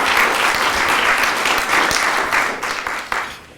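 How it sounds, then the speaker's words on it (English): Hands clap together in a warm burst of applause from a gathered audience at a memorial service, loud at first and then tapering off toward the end. "let's give that hand"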